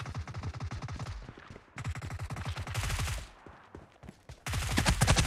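Rapid automatic gunfire rattles in PUBG Mobile, coming in several loud, dense bursts separated by short pauses, with the last burst the heaviest.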